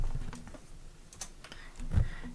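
Quick, soft keystrokes on a computer keyboard are tapped out in an irregular, continuous rhythm, close by and fairly quiet, with no talking.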